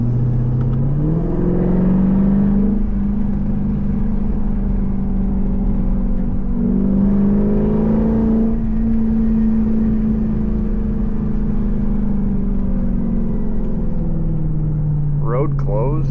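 A tuned Jeep with a 5.7 engine driving along, its steady droning exhaust note rising and falling slightly as it holds revs, loud and close throughout, with someone talking over it.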